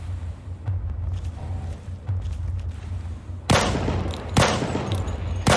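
Enemy gunfire in the video game Fallout 3: faint scattered shots at first, then several loud sharp bursts of firing in quick succession, up close and with no voices over them.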